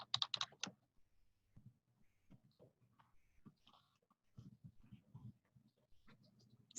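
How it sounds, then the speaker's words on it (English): Quick bursts of computer keyboard typing, clustered clicks at the start and again later, faint and close, with soft speech-like murmur in between. "Speed typing."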